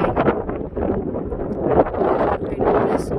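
Strong wind in hot, dry Western Australian country buffets the microphone in loud, continuous gusty rushes that rise and fall, with no other sound clearly standing out.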